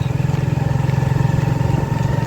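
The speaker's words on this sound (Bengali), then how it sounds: "এই বাইকে অনেকদিন পরে উঠছি।" A motorcycle engine thrums at a steady pace while riding, its rapid low pulsing loud and close throughout.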